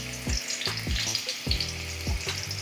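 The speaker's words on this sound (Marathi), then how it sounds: "तेल गरम झाल्यावर लगेच त्यामध्ये बघा एक छोटासा कांदा टाकायचा आहे" A small onion frying in hot oil in a kadhai for tempering: a loud, steady sizzle with repeated low thumps about every half second, as from a ladle or stirring strokes.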